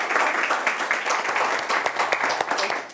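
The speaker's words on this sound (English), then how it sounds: "let's give them a big round of applause for hosting us" Audience applause for the hosts of an evening chamber networking gathering at an olive oil shop, a dense, steady wash of many hands clapping close by, holding even for the whole stretch with no voices over it.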